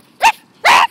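People mimic dog barks toward a passing jogger from across a street: two short, loud yelping barks close to the microphone, separated by a brief pause.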